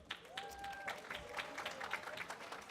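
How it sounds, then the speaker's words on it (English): A conference audience applauds in a room, with scattered claps and a general patter that stay fairly quiet and even throughout. "Give yourselves another huge round of applause."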